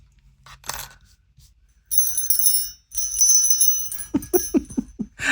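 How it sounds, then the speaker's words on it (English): A small jangly bell hanging from a pom-pom on a handmade Christmas bauble jingles near and bright in a few shaken bursts, with soft rustling and handling taps underneath and no talking. "jangly little pom-pom bell"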